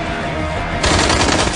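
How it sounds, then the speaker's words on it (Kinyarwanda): Rapid bursts of automatic gunfire crackle loudly and continuously, intensifying into a dense barrage near the end. "barakocinga barekura amasasu"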